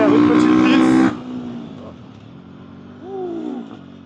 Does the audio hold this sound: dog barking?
no